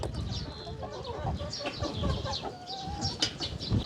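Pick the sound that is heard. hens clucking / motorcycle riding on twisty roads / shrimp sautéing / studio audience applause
hens clucking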